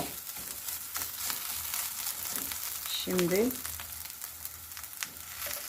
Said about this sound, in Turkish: Salçanın kokusu çıkana kadar kavuruyoruz.